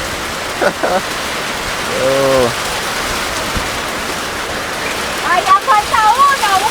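Heavy rain pours down steadily during a motorbike trip through Nicaragua, a dense wash of noise throughout, with brief voices and short bursts of sound breaking through on top.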